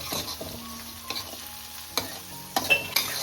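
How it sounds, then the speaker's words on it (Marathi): Tomatoes sautéed with softened onion in a pan, a quiet sizzle broken by several sharp spatula scrapes and knocks against the pan, close and irregular. "आता आपण टॅमॅटो टाकू टॅमॅटो पण मस्त परतून घ्यायचा"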